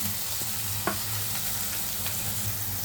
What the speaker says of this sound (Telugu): పచ్చివాసన పోయేంత వరకు ఫ్రై చేసుకోవాలి.